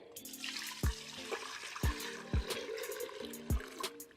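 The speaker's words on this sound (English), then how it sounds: "So I'm gonna take this, pour that in." A yogurt mixture being poured into a container gives soft, wet glugs and plops at irregular intervals, faint and nearby over a quiet room.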